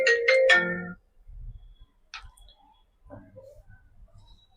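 An outgoing phone call rings with a short burst of electronic tones up close, followed by quiet clicks and faint handling noise.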